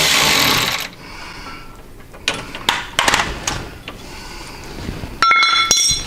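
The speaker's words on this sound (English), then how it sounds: "Now I can really get in here and get this bolt out." An Allen wrench working an Allen head bolt out of a trike swing arm, heard as scattered metallic clinks and scraping clicks near the mic, with quieter ratcheting stretches between the sharper taps.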